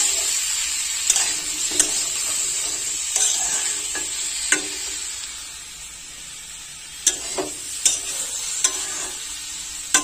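Mixed vegetables sautéed and stirred in a pan for vegetarian winter khichuri, a continuous sizzle broken by repeated scraping clicks of a spatula against the pan, close and alone.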